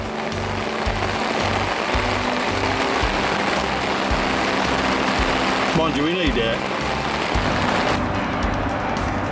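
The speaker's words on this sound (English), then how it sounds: "More rain." Steady rain patters continuously in the background while someone speaks briefly over it, with a short rustle partway through.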